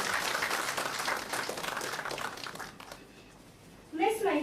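Audience applause at a national conference on corporate and insolvency law, a dense, even wash of clapping from a large crowd that fades away, followed by a voice speaking near the end.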